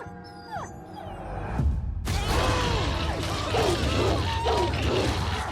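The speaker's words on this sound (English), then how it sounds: "we need to rescue ourselves from these wild dogs because they're trying to kill us" Wild dogs snarl and yelp in a film scene, a dense chaotic tangle of growls and whimpers over a loud crash and rumbling background, close and continuous.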